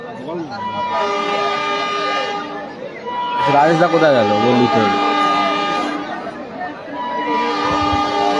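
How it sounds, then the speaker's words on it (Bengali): A train horn sounds in long sustained blasts with rail rumble behind, while people talk nearby over the noise. "ট্রেন আসছে, দূরত্ব বজায় রাখুন।"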